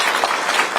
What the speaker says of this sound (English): Let's give them all a big applause.